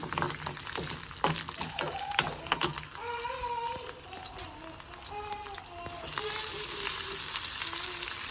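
Onions with garlic frying in a pan for Andhra tomato pappu, making a steady sizzle under some scraping clatter at first, with a faint whistling tone later and the sizzle swelling louder toward the end.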